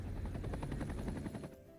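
Medical helicopter flying in the city-building game Cities: Skylines 2, a brief faint rhythmic rotor thumping that fades out quickly near the end.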